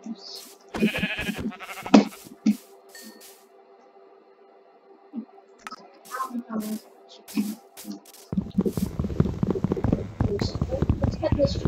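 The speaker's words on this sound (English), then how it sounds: "black sheep." Black sheep bleating in Minecraft, a couple of short bleats early on among other game sounds, with a person talking over the later part.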